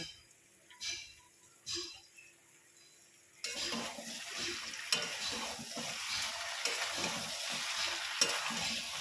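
Mixed sauces go into a frying pan and are stirred, a soft scrape or two before a loud continuous sizzle starts with steady stirring over it, close and clear.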